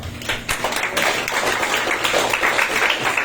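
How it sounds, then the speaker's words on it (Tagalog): Congregation applauding in praise during a church service, dense sustained clapping from many hands filling the room at steady loudness, with faint voices beneath. "Palakpak po natin ang Panginoon"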